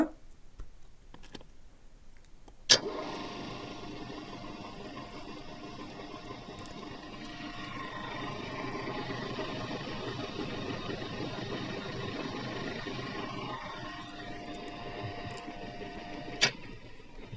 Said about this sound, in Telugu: ఇప్పుడైతే ఒకసారి మనం మోటర్ అయితే ఆన్ చేసి చూద్దాం ఫ్రెండ్స్